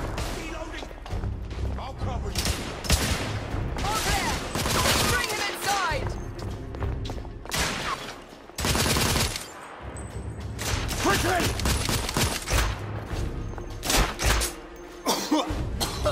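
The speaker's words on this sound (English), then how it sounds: "Lay down suppressive fire!" Dense video-game gunfire crackles in repeated bursts through a battle in The Order 1886, set in Whitechapel, with loud volleys, thuds and brief lulls while voices shout over the shooting.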